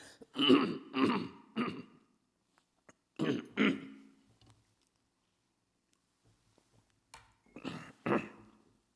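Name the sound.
coughing and throat clearing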